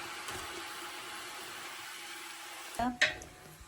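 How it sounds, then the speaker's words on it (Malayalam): Ginger and garlic dropped into sautéed onions frying for a mutton biryani, a faint steady sizzle followed by a sudden clatter and louder stirring scrape near the end. "ഇനി നമുക്ക് ഇഞ്ചിയും വെളുത്തുള്ളിയും കൂടെ ഇടാം."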